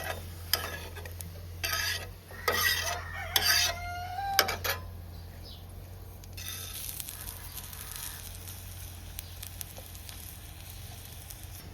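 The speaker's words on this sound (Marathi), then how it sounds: "मग बाकीचा मसाला आणि धने आणि मिरच्या आहे ना ते भाजून घेते." Coriander seeds and dried chillies dry-roasting in a pan over a village wood-fired chulha, with intermittent scraping and stirring strokes and a faint sizzle, a rooster crowing and clucking in the background.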